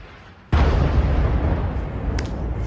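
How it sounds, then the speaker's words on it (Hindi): After a brief quiet moment, a single loud missile-impact explosion booms suddenly and its heavy rumble rolls on, fading only slightly. "एक बहुत जोरदार धमाका हुआ है।"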